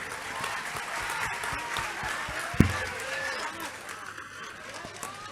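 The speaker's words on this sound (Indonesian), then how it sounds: "Tepuk tangan cinta semua untuk beliau." A crowd applauds steadily at an evening event in Indonesia, a dense wash of clapping with a sharp thump near the middle and faint chatter underneath.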